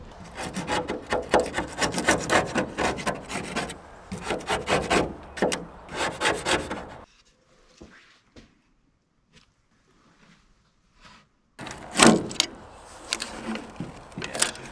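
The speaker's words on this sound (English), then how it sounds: "I'm gonna scrape this and clean it all up." Scraping the old, abandoned boat clean, rapid rasping strokes in close bursts, a long pause, then more vigorous scraping.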